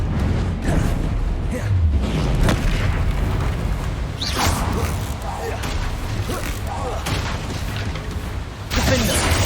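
Confringo fire spells explode repeatedly during combat in Hogwarts Legacy, a series of loud booms and bursts over dense game noise, with voices calling out between blasts.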